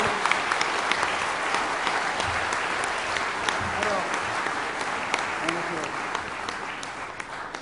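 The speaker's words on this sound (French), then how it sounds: "On peut l'applaudir, 8 ans." Steady applause from an audience at a New Year's greetings ceremony in Béthune, honoring an eight-year-old's prize-winning drawing, continuous and even throughout.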